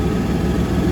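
An engine idling during an engine test, a steady, close, low rumbling drone that stays fairly even throughout, with no voices.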